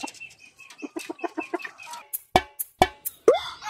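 Laying hens on a chicken farm cluck in a quick run of short, rhythmic calls, then a few sharper, louder squawks close by.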